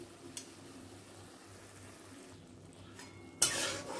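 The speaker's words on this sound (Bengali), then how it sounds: "আদা রসুনের পেস্ট দেওয়ার পর ভালো করে কষিয়ে নিতে হবে মশলাটা" Ginger garlic paste and spices sautéed in a pan for fish biryani, with soft stirring scrapes and a gentle sizzle, plus a sharp utensil clink near the end.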